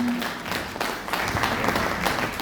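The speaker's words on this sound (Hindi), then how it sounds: "आपकी जबरदस्त तालियों के साथ मैं नरेंद्र जी को माइक देता हूँ।" An audience applauding at a Khurja team gathering as the microphone is handed to the next speaker, a dense run of clapping with rhythmic bursts that fills the room.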